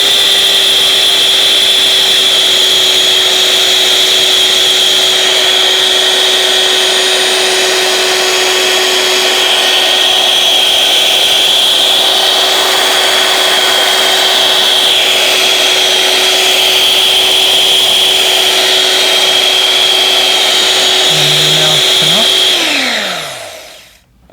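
A Kmart Anko electric hand mixer whirs steadily at high pitch for over twenty seconds, then winds down and stops at the end.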